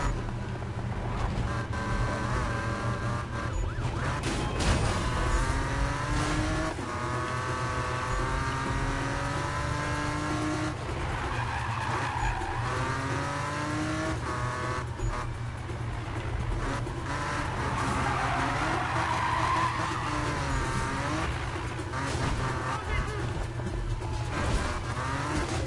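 Cars in the racing video game Need for Speed drift and skid, with a continuous engine roar revving up and down and tires squealing repeatedly through the turns, loud and sustained with no talking.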